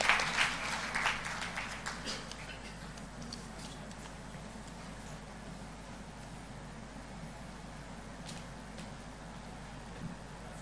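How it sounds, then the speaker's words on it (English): Applause from a conference audience welcomes a speaker at a holistic health event. It is briefly louder at the start, then thins to faint scattered clapping over a steady background hiss. "with a huge round of applause"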